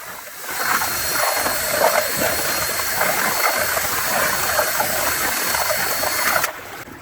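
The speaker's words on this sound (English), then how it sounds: "I brought my electric drill out here with a drywall mud stirrer. I've got a bunch of clay in here" Electric drill spinning a drywall mud stirrer through clay in a bucket, a continuous loud mechanical whir with grinding churn, cutting off abruptly near the end.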